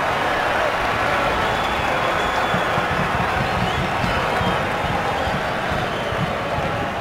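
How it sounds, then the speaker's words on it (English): Stadium fans at a New York Red Bulls vs DC United soccer match applaud a spectacular shot, a dense, continuous wash of clapping and crowd roar at steady volume. "it deserved a clap from the fans"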